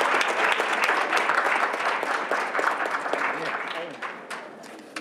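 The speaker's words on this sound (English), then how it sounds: "Let's give them another round of applause as they take their seats." An audience at a Rochester Board of Education business meeting bursts into sustained applause, dense steady clapping from a room full of people that slowly thins and fades toward the end.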